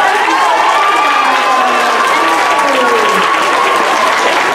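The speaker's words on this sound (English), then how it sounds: "So let's give him another round of applause" An elementary school audience of children and adults gives a teacher another round of applause, continuous clapping mixed with cheering, shouts and excited voices, loud and close throughout.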